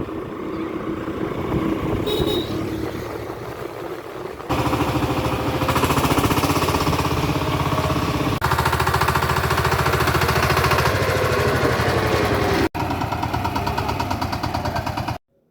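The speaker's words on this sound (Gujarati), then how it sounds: "હવે ચાલ્યા છે આ ટ્રેક્ટર લઈને ખેડવા સારું" A farm tractor engine runs steadily while being taken out to plough a field, a loud continuous rumbling drone with a heavy knocking throb. The engine stays close and dominant throughout, with brief shifts in level partway through.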